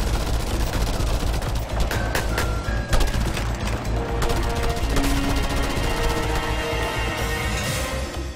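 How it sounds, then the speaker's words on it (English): Gunfire in the open-world action game Just Cause 2: loud, dense and sustained volleys of rapid shots with booming impacts, continuous throughout with no talking. "pull out your guns and start firing at them"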